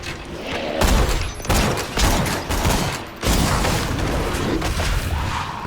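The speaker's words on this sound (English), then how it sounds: "They start shooting at you!" Skeleton enemies open fire in the Borderlands 2 Tiny Tina DLC: dense, overlapping gunshots and booming blasts in rapid bursts, loud and close, filling the whole stretch with hardly a pause.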